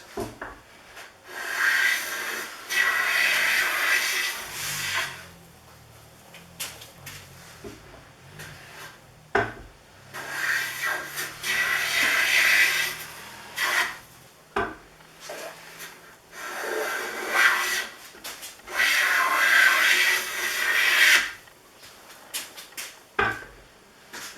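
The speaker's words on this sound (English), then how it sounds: "At this point, she's making full-length shavings from one end to the other." A Stanley No. 608C Bedrock jointer plane takes full-length shavings off a 4.5-foot walnut board, giving three long, loud rasping strokes with brief pauses and clunks between passes; no one speaks.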